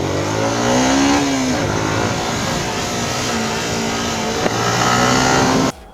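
Hyosung GT250R twin-cylinder and Yamaha R15 sport bikes race on a track, engines droning loud and steady with rising and falling revs, one pitch climbing then dropping as a bike shifts, ending abruptly.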